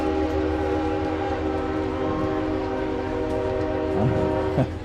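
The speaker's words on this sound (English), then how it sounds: "the train passing by the tracks just behind the visitor stands here at the Cruise Center Stadium" A train rumbles along tracks just behind the visitor stands at Cruise Center Stadium, a steady loud drone of rolling wheels with a tonal horn-like hum and a few sharp squeals near the end.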